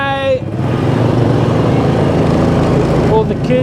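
Motorbikes in small-town traffic on the outskirts of Hanoi, Vietnam, a close, steady engine and road rumble from a moving bike with a brief voice at the start and near the end.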